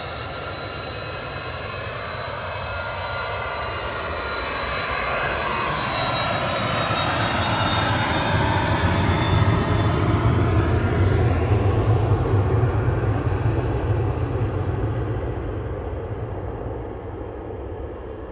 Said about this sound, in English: NetJets, CH-PHK departing.